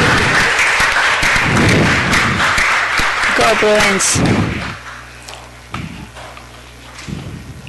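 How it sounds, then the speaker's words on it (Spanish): Audience applause at a city council meeting, a broad wash of clapping that fills the room for several seconds and then thins out, with a few thumps and a voice over it. "vamos a dar la UCL otro gran aplauso"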